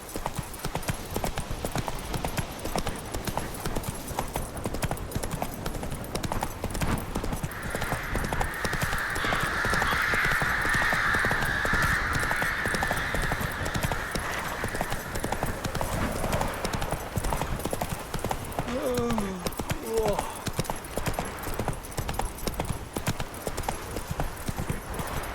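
Horse hooves galloping in The Witcher 3, a steady rapid clip-clop running throughout at close range, with a brief whinny partway and game ambience underneath.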